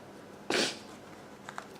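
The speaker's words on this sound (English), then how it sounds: "Sorry, I'm sniffing a bit." A person gives a single short, sharp sniff up close in a quiet room, followed by a couple of faint small breathy sounds.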